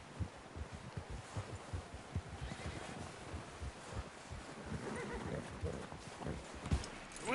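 Horse in the Red Dead Redemption II video game, with rhythmic clip-clop hoofbeats and a whinny over wind, while voices call out in the background.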